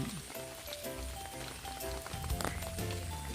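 Steady rain pattering on surfaces at a rainy-season campsite in Kanchanaburi, a continuous close hiss of drops with no talking.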